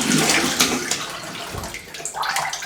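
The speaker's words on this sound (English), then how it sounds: "let's have a little cold water rinse" Cold water runs from a tap to rinse a shaving brush, a loud, close, continuous rushing stream with shifting splashy texture as the brush moves through it.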